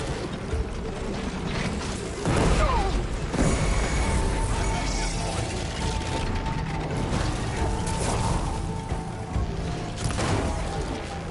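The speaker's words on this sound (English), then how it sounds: "More machines are coming." Robot machines in Horizon Forbidden West grind and clank with ratcheting, gear-like mechanical movement and creaks, a steady loud churn with sharp metallic bursts and no talking.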